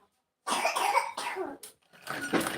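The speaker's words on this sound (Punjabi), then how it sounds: "ਖਾਂਸੀ ਦੇਖ ਲੈ ਕਿੱਦਾਂ ਆਉਂਦੀ ਆ" Several harsh coughs in a close burst after a short silence, then a final rougher cough, loud and near.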